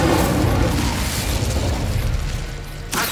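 An Incendio fire spell cast in Hogwarts Legacy: a loud, sustained roaring burst of flame with booming low rumble that fades slightly, then a sharp new flare near the end.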